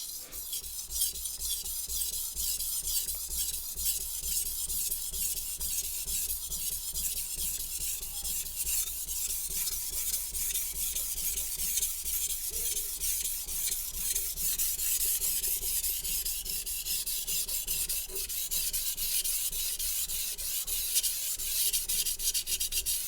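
A Santoku knife is drawn by hand across a sharpening stone, making a soft, continuous gritty rasp of repeated strokes, quiet and close with no voices.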